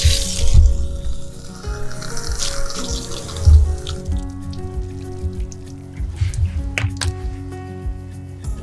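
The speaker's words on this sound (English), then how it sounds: "now I'm going to show you how water goes onto the glass without having anything on there at all" Water streams and splashes onto clean, untreated window glass with no sealant on it, a steady close wash with spattering droplets that continues throughout.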